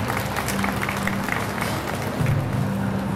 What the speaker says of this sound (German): die freuen sich auch mal so zwischendurch über einen kleinen Extra-Applaus